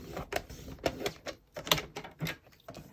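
A paper card base being scored along a line, a handful of short, sharp scraping clicks in quick succession, close up and quiet with no voices.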